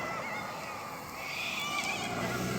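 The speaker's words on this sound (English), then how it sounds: "All those birds, they're just galahs." Galahs and cockatoos call loudly in a town, a dense, continuous chorus of harsh, raucous screeches running through the whole stretch with no voices.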